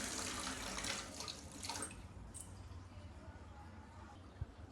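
Water runs from a tap into a pot being washed in a home sink, a close continuous splashing and rushing stream with faint clinks of the vessel.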